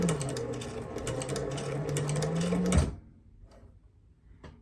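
A Techsew 2900 leather and cobbler sewing machine with a clutch-driven servo motor runs at a steady, rapid stitching pace for almost three seconds. It then stops and leaves only a few faint mechanical clicks.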